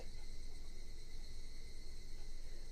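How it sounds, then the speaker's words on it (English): Cicadas drone continuously in the Higurashi When They Cry video game, a steady, loud, shrill chorus that holds unbroken throughout with no voices. "Only this cry the cicadas remained, annoyingly loud."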